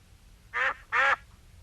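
A voice imitates a duck, giving two loud, nasal quacks in quick succession against a quiet background.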